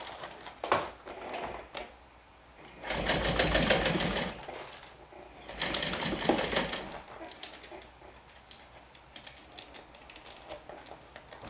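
A sewing machine stitches the main front panel of a garment with a metal zipper, running in two sustained close bursts of rapid, even needle clatter separated by brief pauses and lighter handling sounds.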